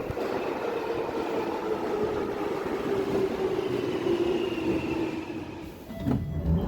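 A London Underground Jubilee Line train rumbles steadily along the track with a broad, continuous roar and a faint whine, ending in a few clunks and rattles, with no talk.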